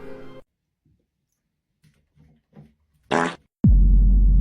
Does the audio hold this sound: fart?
yes